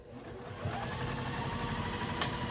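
A sewing machine stitches boxy quilted bags with an even, unbroken mechanical hum that grows slightly louder after a brief soft start. No one speaks.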